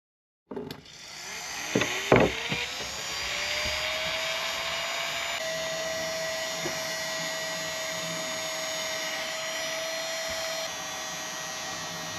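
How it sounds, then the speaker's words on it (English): A heat gun runs steadily after a few knocks and clicks at the start of a tiny house repair job, with a constant whirring blow and a faint tone holding throughout. "let me go get the heat gun and we'll get this put on"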